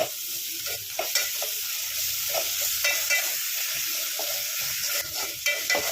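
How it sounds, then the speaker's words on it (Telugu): Freshly pounded ginger garlic paste fries with mint and onions in a pan for a village-style country chicken curry. A continuous bright sizzle carries on with irregular stirring scrapes and light knocks, close and fairly loud, with no talking. "అల్లం వెల్లుల్లి మంచిగా ఫ్రై చేసుకోండి"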